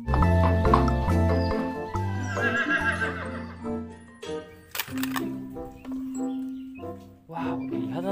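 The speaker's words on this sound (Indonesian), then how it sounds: "Wow, di sini ada kuda teman-teman." A horse neighs in the video game Jurassic World Evolution 2, with a loud whinny at the start followed by snorts, hoof clatter and further shorter calls at close range.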